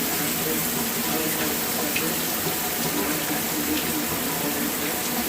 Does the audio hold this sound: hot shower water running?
yes